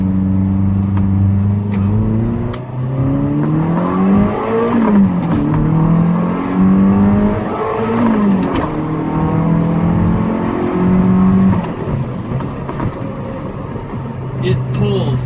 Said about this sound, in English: Take the car for a little drive.